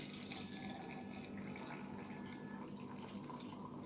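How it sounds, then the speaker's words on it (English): A cup of water is poured into a smoothie cup for an oat, walnut and flax seed breakfast blend, giving a steady, soft trickling and splashing that runs nearly four seconds at low level with no talk. "So I'm gonna add my water."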